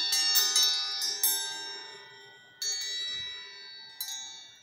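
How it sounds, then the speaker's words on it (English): A homemade wind chime made from a filed metal piece tinkles: several bright, ringing metallic strikes in quick succession, then single strikes that hang and slowly fade, close and clear with no talk. "We think it's going to make a pretty nice wind chime."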